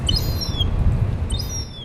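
Seagulls call at a harbour in Troon, two bursts of high, wailing cries at a moderate distance over a steady low rumble of wind and surroundings.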